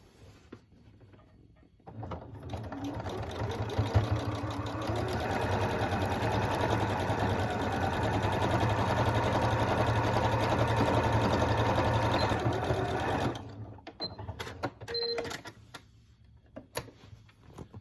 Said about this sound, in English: you're just going to stitch down your whole outside of your pouch here to close that seam